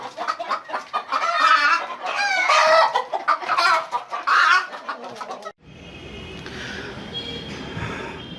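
Broody hens cluck and murmur close by for several seconds, then give way to a steadier, quieter rustling ambience with soft bird calls.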